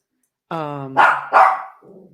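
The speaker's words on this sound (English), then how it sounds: "this is my dog" A dog gives a whining, drawn-out vocal followed by two sharp, loud barks close by, then a softer trailing sound.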